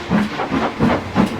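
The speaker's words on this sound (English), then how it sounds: "with much noise and blowing of steam, got ready to back onto the train" Rhythmic puffs of hissing steam repeat four times in quick succession, like a locomotive chuffing nearby, from a PRR 6755 steam locomotive.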